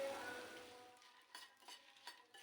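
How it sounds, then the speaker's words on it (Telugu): Dried red chillies and cumin seeds frying over a low flame in a pan, a faint soft sizzle with a few light stirring scrapes and clinks, quiet and close with no talk. "చిన్న మంట పెట్టుకొని దోరగా ఫ్రై చేసుకోవాలండి."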